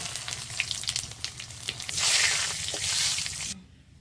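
Whole cumin, bay leaves and dried chillies sizzle in hot mustard oil in a wok, a crackling fry that swells louder midway, then cuts off abruptly near the end.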